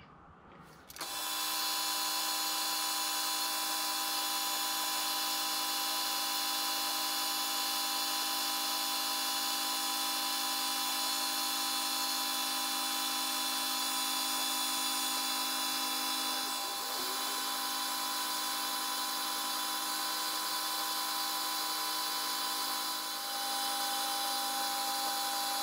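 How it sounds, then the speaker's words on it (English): A power tool sands and polishes a workpiece. It spins up after a second, then holds a steady, loud, high-pitched whine, with slight dips in load near the middle and end. "Still got a bit more sanding and polishing to do yet"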